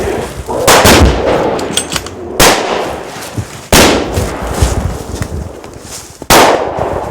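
Several loud, sharp gunshots are fired at a charging grizzly bear outdoors, each a sudden crack with a rolling echo, spaced a second or more apart, with no voices in between.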